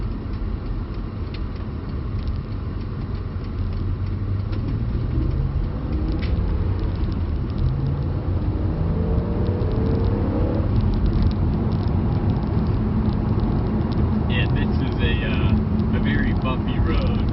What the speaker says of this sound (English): Bumpy road, so you can definitely hear the bumpiness of the road